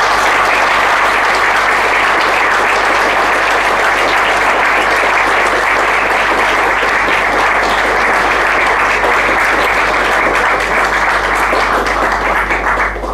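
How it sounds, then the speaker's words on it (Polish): A large audience applauds at a political talk with guest Robert Winnicki, sustained loud dense clapping that carries evenly throughout and tapers only slightly at the end. "Myślę, że też podziękujemy brawami."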